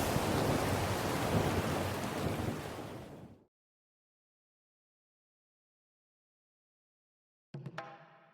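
Heavy rain and rumbling thunder from a storm in the video game Dreamsnap, loud and steady for about three seconds before cutting to silence, then a brief burst of new sound near the end.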